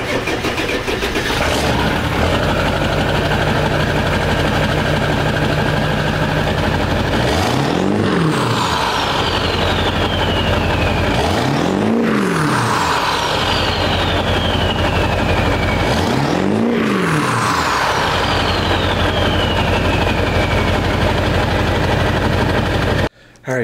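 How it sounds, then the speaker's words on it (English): A 7.3L Powerstroke diesel truck engine starts and settles into a loud, close idle, then revs hard three times at even intervals, each burst rising and falling over the steady diesel rumble. "I'm gonna fire up the truck here. I'm just gonna roll a little bit of coal, show you guys what it sounds like."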